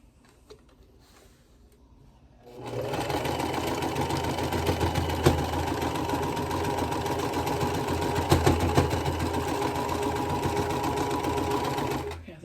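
A domestic sewing machine starts after a couple of quiet seconds and runs steadily, close and loud, stitching sashing onto an apple quilt block in a Farm Girl Vintage 2 Fall Harvest block, with a fast even mechanical whir and rattle.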